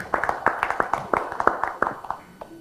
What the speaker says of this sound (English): Let's give yourself a round of applause for a beautiful meal,